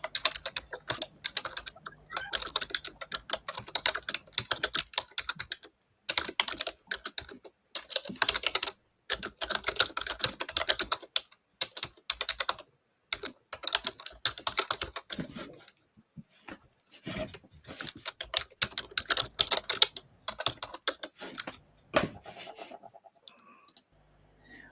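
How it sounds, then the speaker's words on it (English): Close, clicky typing on a computer keyboard comes in rapid bursts separated by brief pauses, with no talking. "We can hear your keyboard. That's good. It's a very pretty sound, my keyboard."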